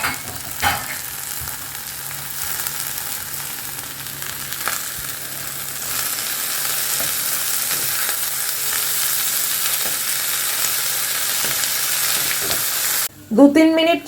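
Peas and carrots sizzle and crackle in a hot wok while being stirred, a continuous close frying hiss with scraping strokes, ending in a brief burst of louder clatter.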